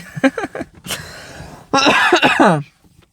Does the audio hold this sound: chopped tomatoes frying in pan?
no